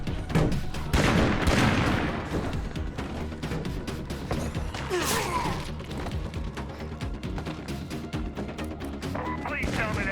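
Repeated shotgun blasts from the video game State of Decay 2, sharp, loud reports in irregular bursts throughout, mixed with game impacts and a player talking over the action.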